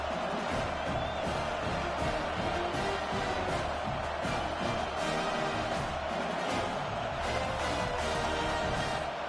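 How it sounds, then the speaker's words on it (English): A large home crowd at a college football game roars steadily and loudly throughout after a punt return, a dense wash of cheering voices filling a stadium. "You can hear this home crowd going bananas."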